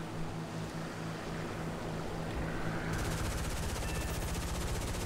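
Rapid machine gun fire from an F82 fighter in War Thunder, a dense continuous rattle that grows sharper and more clearly pulsed partway through, loud and steady under engine roar with no talk.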